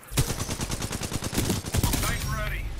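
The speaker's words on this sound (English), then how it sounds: "here's some people shooting back here" Rapid bursts of automatic gunfire from the video game Titanfall 2 during an Amped Hardpoint match, a fast string of close, loud shots that fades into quieter game sounds at the end.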